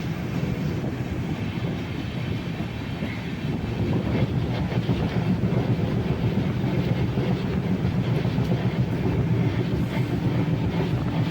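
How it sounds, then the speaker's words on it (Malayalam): The Venad Express rolls past on wet tracks in the rain in Kerala, a steady, continuous rumble and clatter of wheels on rails holding loud and even throughout, with no talk. "അതേ വേണാട് എക്സ്പ്രസ് ക്രോസ് ചെയ്ത് പോകുന്നു"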